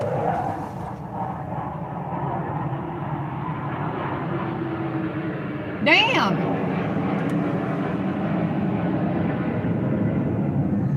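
Military fighter jet flying overhead outdoors near a cancelled air show, a distant low rumbling roar that swells gradually across the clip, with a person talking over it and a brief exclamation midway.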